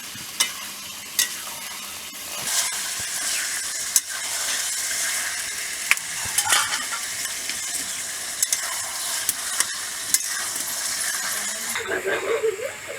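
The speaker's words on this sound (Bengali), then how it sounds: "এরপর রসুনটা দেবো, কষিয়ে নিচ্ছি ভালো করে" Garlic is stir-fried in a pan with a steady sizzle, punctuated by regular metallic clinks and taps of the spatula. A voice briefly sounds near the end.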